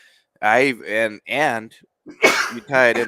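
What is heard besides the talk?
sneeze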